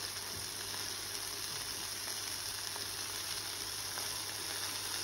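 Butter sizzling in a hot pan, a continuous even crackling hiss held at a steady level for several seconds, with faint stirring noises and no speech.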